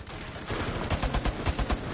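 Gunfire in the video game Rainbow Six Siege, a fast burst of rapid, punchy shots firing in quick succession after a quieter opening, fairly close and without talk.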